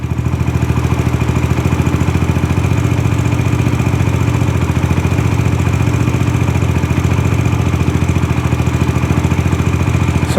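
Engine of a Raptor 125 ATV idling steadily up close, a loud, even putter that settles without hanging, with no talking.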